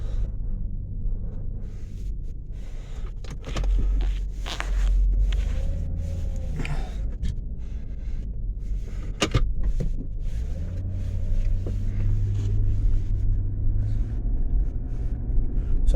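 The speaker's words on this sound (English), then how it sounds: "And I'm just driving in the parking lot," A car rolls slowly through a parking lot, its low engine rumble and road noise steady throughout, with a few faint clicks and knocks from inside the cabin and no talking.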